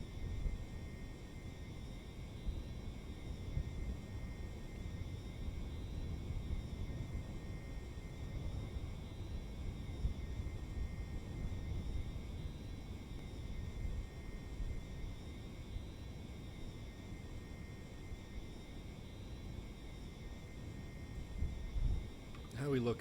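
Space plane engine in a video game, a steady broad roar with a constant whine running evenly throughout, moderately loud and unbroken.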